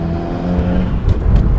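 Subaru WRX engine accelerating in third gear, a steady close engine drone with harmonic tones that rise briefly then settle, continuous throughout with no talk.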